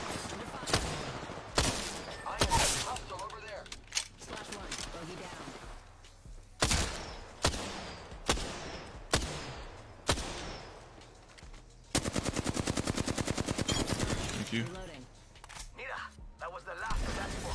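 Rapid automatic gunfire bursts from an Apex Legends ranked match, sharp repeated volleys in short clusters with a sustained stretch of fast fire near the end, while a player's voice talks over the shooting.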